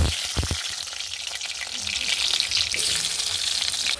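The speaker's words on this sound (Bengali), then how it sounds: "এবার আমি আলুটাকে ভেজে নেব" Potatoes frying in oil for a spicy Bengali mutton kosha, a loud, dense sizzle filling the moment with a few stirring clatters near the start, close up and continuous.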